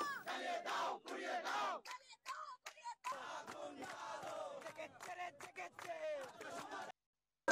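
Protesters chant slogans in a loud crowd during a street clash with police in Bangladesh, shouted voices rising in repeated bursts with brief pauses, before falling silent near the end.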